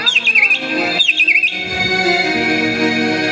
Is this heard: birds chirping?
yes